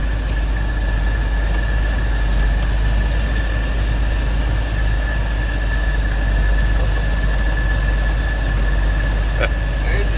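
Heavy machine plowing snow around a cattle waterer on a farm in harsh winter weather, a loud, steady low engine rumble that drones on throughout with a constant mechanical hum and no pauses.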